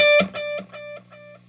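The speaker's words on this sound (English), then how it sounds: "So I'm going to turn the overdrive on and just pluck a note so you can hear the 7 repeats." A single overdriven guitar note rings out through a delay, followed by seven evenly spaced echo repeats that fade progressively quieter.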